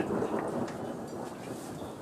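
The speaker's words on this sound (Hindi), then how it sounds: "बारिश में गरजते हुए आसमान से जो बिजली कड़क रही है" Thunder rolls over hills during rain at an outdoor public rally in Doda, a low, broad rumble that is loudest at first and then eases slightly, with a faint patter of rain and no voices.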